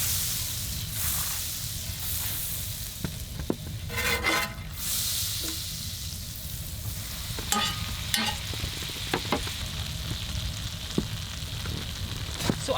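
A large batch of onions and peppers frying in an oversized pan on a camp stove, a steady hiss and sizzle with occasional clinks and scrapes of stirring, outdoors.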